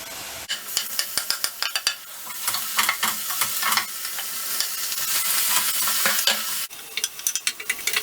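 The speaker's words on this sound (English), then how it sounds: "The onions are golden brown, so let's drop the ginger and garlic." Golden-brown onions sizzle in hot oil as ginger and garlic go in, bright loud frying hiss with rapid spatula scrapes and taps in bursts, close up and without speech.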